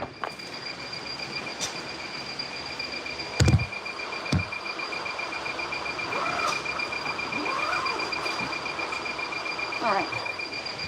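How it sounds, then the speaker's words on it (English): A high, rapid electronic beeping runs without break, with a couple of sharp clunks and some rustling around it. "It's a crazy beeping sound."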